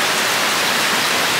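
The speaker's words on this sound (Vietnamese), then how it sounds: "Đó, trời mưa đúng lớn luôn á." Heavy rain pours outside in Tokyo as a dense, loud, steady hiss of falling water, continuous and alone without talk.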